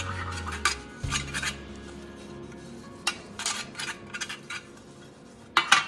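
A spoon spreads ghee around a metal cake tin, making a series of close scraping clinks and taps in uneven bursts, with a low hum dropping out early and no speech.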